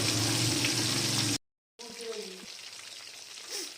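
Chicken pieces for crispy restaurant-style fried chicken sizzle steadily in hot oil, a loud broadband hiss that cuts out briefly, then resumes with faint clinks of utensils.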